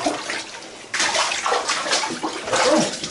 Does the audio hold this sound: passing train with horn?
no